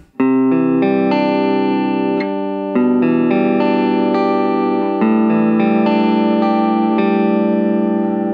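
Clean electric guitar through a Way Huge Blue Hippo pedal playing a sequence of ringing chords and notes, bright and sustained with a touch of reverb, no voices.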